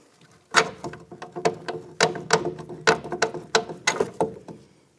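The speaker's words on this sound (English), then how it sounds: "Now we're taking the top nut off." A ratchet wrench clicks rapidly in bursts while the top strut nut comes off a 2001-2007 Volvo V70 XC during a front CV axle job, close and crisp with a short pause between runs, no talking.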